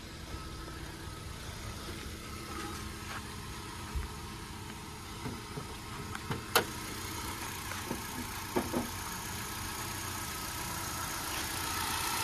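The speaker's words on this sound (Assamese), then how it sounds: "ইয়াৰ হৈছে ইঞ্জিন নইজ" A Hyundai i20 car engine idles in a steady low hum, with a few faint clicks and taps nearby and no talking.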